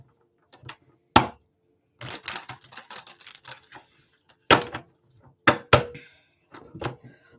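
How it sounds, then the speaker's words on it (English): Tarot cards are handled and shuffled close by: sharp taps and slaps between bursts of quick riffling clicks, with short pauses in between. "I'm going to do one more shuffle here."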